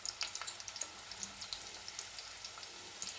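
Onions, green chillies and curry leaves fry in hot oil, a soft, steady sizzle with faint crackles and pops and light stirring, with no talking.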